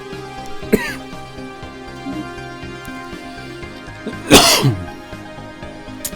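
A brief throat noise early, then one loud, harsh cough close by, with a quiet steady background hum throughout.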